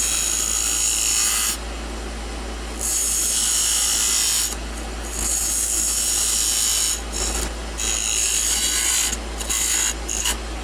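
A wood turning tool trims a chess rook on a lathe, giving a loud, steady scraping hiss in long bursts with brief pauses between cuts, over a constant low motor hum.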